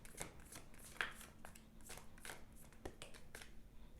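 Moonology oracle cards shuffled up close, giving quick papery riffles and flicks in short irregular bursts with no talking.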